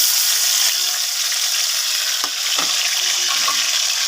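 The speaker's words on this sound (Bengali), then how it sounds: "কড়াই তেল গরম করতে দিয়েছি, পটলগুলোকে ভেজে নিয়েছি। পটলটা দিয়ে দেবো" Pointed gourd fries in hot oil in a wok, giving a loud, steady sizzle throughout with a couple of faint stirring knocks.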